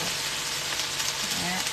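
Chicken pieces sizzling and caramelizing in a hot pan, a steady, close, crackling hiss throughout a short stretch, with faint talk in the background.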